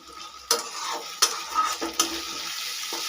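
Tomato and salt being stirred in a pan with ginger and garlic paste for Kashmiri aloo dum, a low sizzle under a few distinct spoon clinks and scrapes against the metal, near and without talk.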